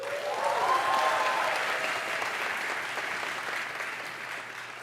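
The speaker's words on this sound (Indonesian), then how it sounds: "Tepuk tangan untuk Georgetown Uni." Audience at a Georgetown University public lecture in Washington, D.C. breaks into steady applause, swelling early and then holding at a dense, even clatter of many hands for several seconds.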